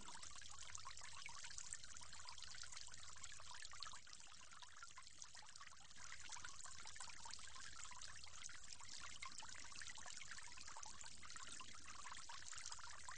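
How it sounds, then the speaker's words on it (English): Water runs in a steady, close stream while the mouth is rinsed during ablution before Islamic prayer, a continuous soft pouring and trickling with small splashes, quiet and without talk. "From there, you'll go on to rinse your mouth 3 times."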